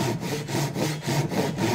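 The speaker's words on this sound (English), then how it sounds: "And I'm just going to start sawing away." Japanese saw cutting through wood in steady rhythmic strokes, about six even pushes and pulls, close and loud with no talking.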